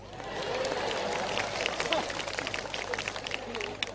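An audience at an Indonesian religious lecture breaks into applause, a moderate wash of clapping mixed with crowd murmur that fades into scattered claps and chatter.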